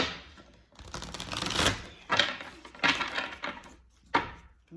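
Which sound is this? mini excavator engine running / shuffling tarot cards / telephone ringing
shuffling tarot cards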